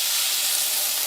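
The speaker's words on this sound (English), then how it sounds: "So we're going to throw a little bit of water in there." Water hitting a hot pan for steaming sets off a loud, steady hiss that fills the whole moment without a break and with no voices over it.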